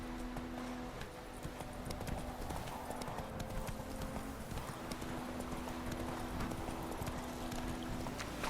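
Roach, the horse in The Witcher 3, gallops in a fast, continuous run of hoof clip-clops over a game soundscape, with a steady tone underneath and a brief voice.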